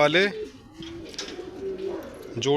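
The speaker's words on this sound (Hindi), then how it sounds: "कबूतर खोलते हैं भाइयों, और आपको आज सारे कबूतर दिखाते हैं भाइयों।" Pigeons coo softly in a low, rolling murmur, close by, as they are let out of their loft, with a voice talking briefly at the start and end.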